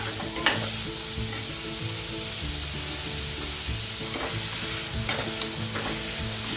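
Finely chopped onion and garlic sautéing in hot oil for egg bhurji, a steady close sizzle with occasional spatula scrapes and stirring clinks throughout, no voices.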